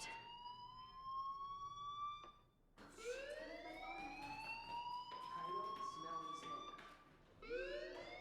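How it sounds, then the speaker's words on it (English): A fire alarm rings in the video game Life Is Strange, a loud warbling electronic tone with rising sweeps that cuts out briefly and resumes, while a voice speaks over it. "Hey, do you hear that fire alarm?"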